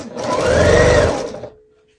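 A sewing machine runs a short burst while stitching quilt star-block fabric, a close whirring motor with fast rhythmic needle clatter that rises, holds for about a second, then winds down and stops.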